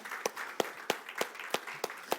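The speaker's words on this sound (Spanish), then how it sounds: "Dale un aplauso al Rey que perdona nuestros pecados." Sharp, evenly spaced claps ring out at a steady rhythm, about seven beats in two seconds, a church congregation clapping together in time.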